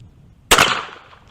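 One sharp, loud shot from a Pietta 1851 Navy .44 caliber percussion cap revolver at a shooting range, a sudden blast whose ringing tail fades over about a second.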